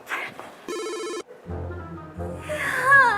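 A telephone rings loudly in short electronic bursts, a sharp harmonic tone pulsing close by, followed by a lower warbling ring that swells toward the end with no talking.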